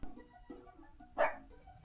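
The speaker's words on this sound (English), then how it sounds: "Just as the dogs start barking" Dogs bark once at a distance, a brief muffled burst over quiet indoor background noise.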